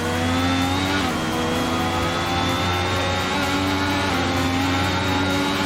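An F1 race car in a video game accelerates hard out of the final corner. Its engine holds a loud, steady high-pitched whine that climbs through the gears, with a brief dip at each upshift.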